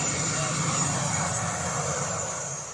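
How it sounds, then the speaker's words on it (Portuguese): A pet travel carrier plays recorded airport sounds: a steady, continuous roar of airplane engines that holds at an even level and fades slightly at the end. "O barulho que sai da caixa imita o som de um aeroporto."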